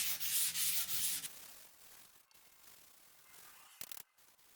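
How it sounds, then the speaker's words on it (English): Hand sanding with a small 600 grit sanding block on a painted Toyota Sequoia TRD Pro grille, starting as a close, bright scratching rub for about a second before fading to faint, quiet strokes with a few small clicks. "I'm gonna switch to this sanding, I don't know, block, board, whatever, to create a flatter surface. I only have 600 grit for this size"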